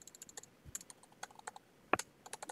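Quick, light keystrokes on a computer keyboard while code is typed for a Playdate game, a rapid, uneven patter of clicks with one louder clack near the end, close and without speech.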